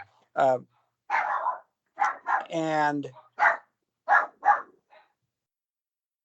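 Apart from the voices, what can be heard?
dogs barking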